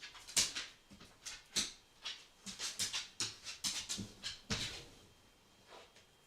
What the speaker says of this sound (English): Hey, puppy.